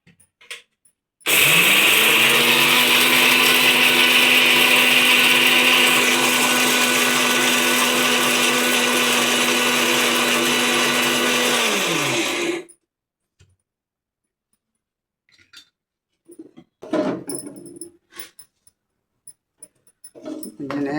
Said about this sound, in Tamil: மிக்சியில் போட்டு இப்போ அடிச்சிட்டு உப்பு அதில் போட்டுக்கலாம்.